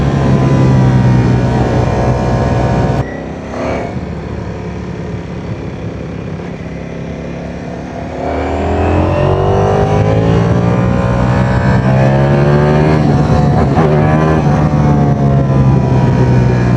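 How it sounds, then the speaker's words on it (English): A Ducati Streetfighter V4 motorcycle engine under way, a loud, steady roar with rising and falling pitch as the rider accelerates, a brief dip and then climbing revs, heard up close with no talking. "It's definitely feeling very powerful motorbike."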